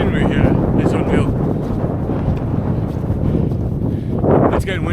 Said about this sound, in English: It's getting windier the higher up I go